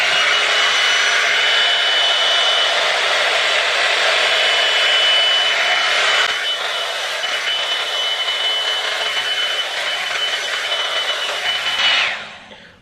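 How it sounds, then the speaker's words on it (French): Hair dryer blowing on wet hair, a loud steady whooshing hum that drops slightly midway and then cuts off near the end, with no talking. "je vais les sécher un petit peu au sèche-cheveux"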